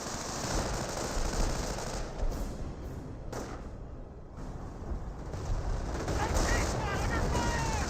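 M2 machine guns firing in the World War II strategy game Company of Heroes, a steady dense rattle of gunfire with thuds mixed in, sustained and loud throughout.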